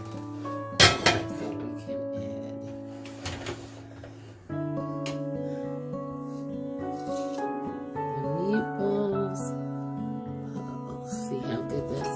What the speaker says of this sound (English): let me move this pan out of the way and move the other pot back up